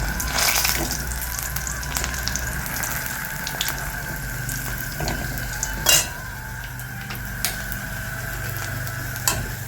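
Pakoras frying in oil in a home kitchen of a tin-roofed house, a steady continuous sizzle with occasional stirring clinks and a few sharp taps, no talking.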